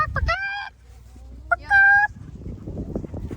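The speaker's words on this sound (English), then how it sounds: "Yep, those are the chickens." Chickens calling in a snowy backyard during a blizzard, two loud, harsh honking squawks close by with gusty outdoor noise and faint voices around them.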